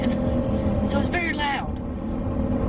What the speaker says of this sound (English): Hello, loud motorcycle.